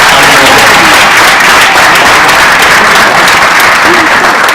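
Loud, close, sustained audience applause at a 2016 award ceremony, dense clapping that holds evenly throughout with faint voices underneath.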